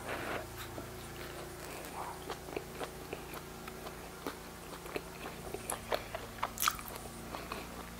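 Someone eats a Thai steamed bun (salapao) close by. The soft, faint bites and chewing clicks repeat over a low steady room hum, with no talking.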